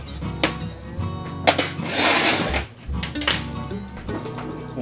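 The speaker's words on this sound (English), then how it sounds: "Attach our dough hook, drop it down in there, lock them in place" A dough hook is fitted onto a stand mixer holding pretzel dough ingredients and locked into place, with close metallic clanks, scrapes and knocks, plus a brief rubbing rattle in between.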